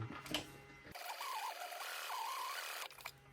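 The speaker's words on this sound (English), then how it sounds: "we're gonna sew along both curved edges at a 1/4 inch seam allowance" A sewing machine runs a continuous stitching burst along the curved edges of a fabric tote bag, a fast whirring buzz that starts and stops abruptly, close and fairly quiet.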